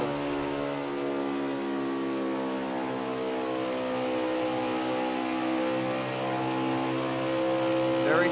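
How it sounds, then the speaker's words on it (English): A race car engine in a racing game at Atlanta Motor Speedway holds a steady, buzzing throttle tone with a rich stack of harmonics. It sounds sustained and fairly even, with slight rises and falls and no one speaking. "But listen to G3's throttle rhythm."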